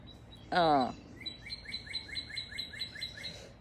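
Birds in a backyard give a loud bright burst of a call, then a rapid series of high, evenly spaced chirps that repeat close by against a quiet background.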